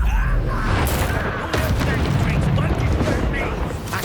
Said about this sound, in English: Expelliarmus!